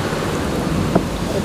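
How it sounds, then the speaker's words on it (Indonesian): Steady rain pours down around an outdoor food cart stall, a dense continuous hiss of drops on surfaces with a faint low rumble underneath, loud and close throughout. "hujan guys."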